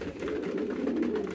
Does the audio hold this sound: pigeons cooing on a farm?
yes